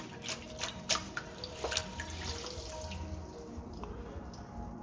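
Fresh rosemary sprigs are rinsed under a running kitchen tap, a steady soft hiss of flowing water broken by irregular splashes and drips as the herb is moved through the stream.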